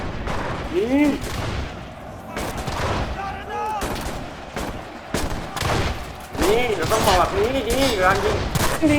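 Gunfire in the video game Enlisted, repeated bursts and single shots scattered across the clip, loud and close, mixed with talking from a player.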